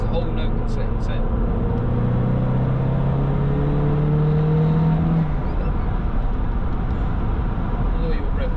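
Turbocharged car engine revving, its tone rising and shifting as boost builds, a steady drone with a climbing pitch that flattens out midway, while people talk over it.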